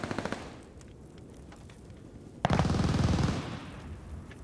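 Light machine gun fire in Call of Duty: Vanguard, with a short burst of rapid shots at the start and then a longer, louder sustained burst about halfway through, close and dense.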